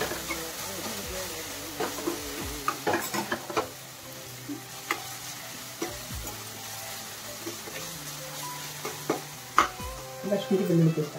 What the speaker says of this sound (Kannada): ಪುದೀನ ಸ್ವಲ್ಪ ಬೆಂದ್ಮೇಲೆ ಶುಂಠಿ ಬೆಳ್ಳುಳ್ಳಿ ಪೇಸ್ಟ್ ಹಾಕ್ಕೊತಾ ಇದ್ದೀನಿ